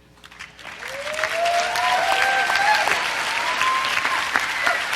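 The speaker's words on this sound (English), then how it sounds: "I now invite your applause for the class of 2007." Sustained applause from a commencement audience for the graduating class of 2007 at Reed College, rising quickly after a quiet start into steady, full clapping from a large crowd, with a faint whistle over it.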